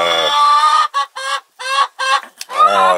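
A small backyard flock of six hens and three roosters clucks loudly and close, with rapid repeated bursts of cackling broken by short pauses.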